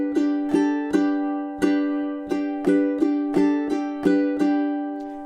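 Ukulele plays measures 19 and 20 of a piece, about a dozen bright strummed chords struck in an even, lilting rhythm, each ringing briefly before the next; close and clear with no voices.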